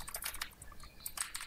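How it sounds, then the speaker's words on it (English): Fortnite tournament players clattering on computer keyboards, dense rapid keystrokes in irregular bursts, close and fairly quiet with no talk. "I hear clapping on the keyboards"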